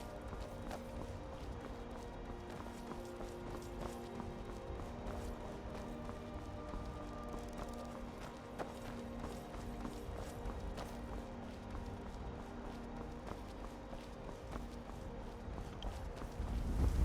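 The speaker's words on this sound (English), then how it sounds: "What was that? I just heard a horse." Faint, steady clip-clop of horse hooves trotting in the video game Skyrim, under a quiet, continuous background hum.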